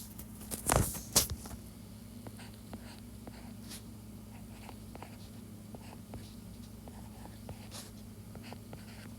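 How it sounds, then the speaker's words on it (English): Handwritten notes being jotted down: soft pen-on-paper scratching and light taps, faint and intermittent over a quiet room hum, with a louder rustle near the start. "So these four, I'm going to write it in here."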